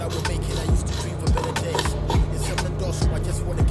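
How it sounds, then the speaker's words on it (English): A knife scraping the scales off a tilapia fish: rhythmic, repeated scraping strokes roughly every half second, close and clear, with faint background sound. "And I now use the knife to scrape the outer part of the tilapia."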